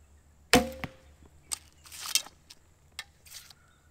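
A traditional bow shooting an arrow tipped with 100-grain points and aluminum inserts: one sharp, loud release thump at the start, followed by fainter clicks and brief rattles from the lightly damped bow.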